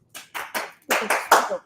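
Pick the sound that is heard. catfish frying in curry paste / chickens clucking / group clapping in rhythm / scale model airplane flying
group clapping in rhythm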